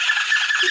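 A person's voice imitates a dolphin with a sustained, piercing high squeal. It is loud and close, slightly wavering, and lasts under a second with no other sound.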